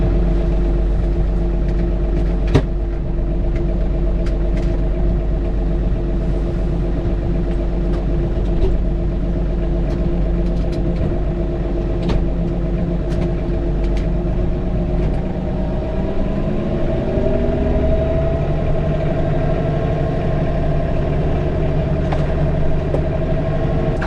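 John Deere 3046r cab tractor engine running steadily at a low rumbling idle that shifts pitch midway as it works in wet, heavy snow, with faint clanks and knocks over the drone.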